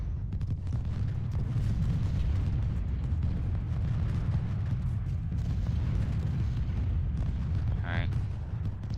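Heavy rumbling battlefield din from cannon and artillery in the Civil War strategy game Ultimate General: Civil War, Battle of Gaines' Mill, with continuous booming explosions layered into a dense, loud roar and a brief higher whistle near the end.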